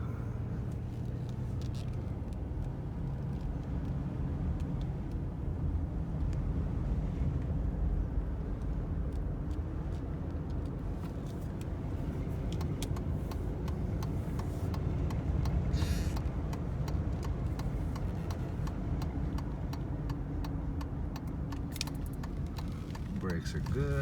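Mercedes 500SL R129 with its M119 V8 idles after a cold start following over a month of sitting, a steady low rumble running continuously for the whole stretch while a person talks over it.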